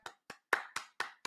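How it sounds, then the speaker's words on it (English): A single pair of hands gives six slow, spaced, light claps, each crisp and dry, close up and alone in a quiet room. "little golf clap for you"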